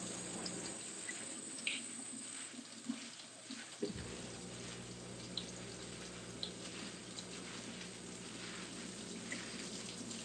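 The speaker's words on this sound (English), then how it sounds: "Rinse it off." Kale is rinsed under a running kitchen tap, a steady soft stream of water with a few light splashes and drips, faint and close.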